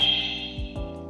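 Pinging from the eyes of a Jakks Pacific Giant Metal Sonic toy, a steady high electronic tone held over a low hum, with two brief downward swoops near the end.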